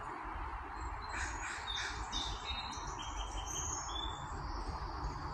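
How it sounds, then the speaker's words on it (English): A red-headed woodpecker calls outdoors, a series of faint, scattered high chirps over steady broadband background hiss. "It's a red-headed woodpecker."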